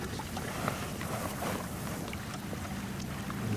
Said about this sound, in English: I'm trying to shield the rod from the wind.